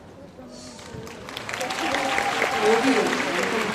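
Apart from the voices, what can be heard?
audience applause at music festival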